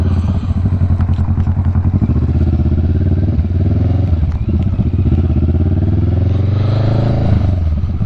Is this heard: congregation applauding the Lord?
no